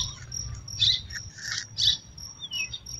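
Small birds chirping on neighbourhood rooftops, a few bright, quick tweets and short bursts near to mid-distance over a faint steady insect-like hum.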